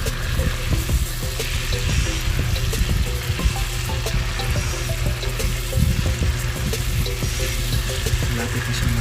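Chicken adobo cooked with Coke sizzles and bubbles steadily in a pan while being stirred, a continuous close frying hiss with faint scraping, no talk.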